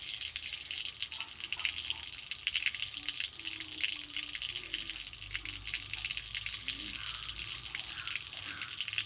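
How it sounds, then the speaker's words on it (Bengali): A kitchen or bathroom tap runs in a steady, fairly quiet hiss of water while hands are washed with homemade soap paper; no one speaks. "একটু কলটা চালিয়ে নিই"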